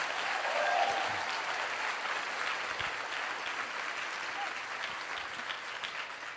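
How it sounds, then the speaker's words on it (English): An audience at a motivational speaking event breaks into steady applause, dense clapping that holds fairly constant for several seconds before easing slightly. "Give yourselves a round of applause."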